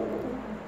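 A pigeon with both wings stiff, a male unable to pair with a female, gives a brief, low, throaty coo close by, a soft continuous rumble with no voices.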